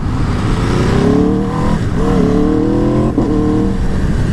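An 1100 Factory sport motorcycle engine revs up close with a rough, clattery edge, rising in pitch twice with brief dips between, loud and steady throughout.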